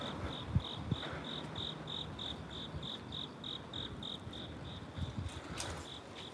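Crickets chirp in a regular, rapid pulse beside a river at night in Seoul, steady and moderately loud over soft ambient hiss, with a couple of faint knocks near the start.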